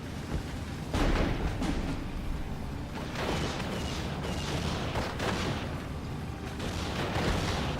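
Artillery guns firing in the Steel Division: Normandy 44 strategy game, a series of dull booms spaced a second or so apart over a constant rumbling battlefield background, fairly distant.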